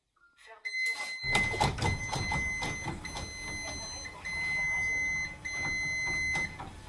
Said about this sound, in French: ça émet un petit bip bip comme vous l'avez entendu, qui avertit de ne pas rester sous la porte